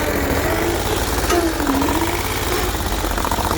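A Sears garden tractor with a 6HP diesel engine runs steadily nearby, its low, knocking chug loud and constant throughout, with no talking.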